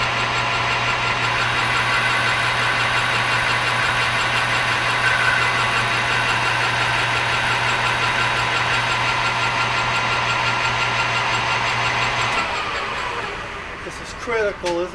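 A metal lathe boring a part for a compound drive, taking a light cut of about five thousandths, with a steady motor hum and whine running throughout that winds down near the end.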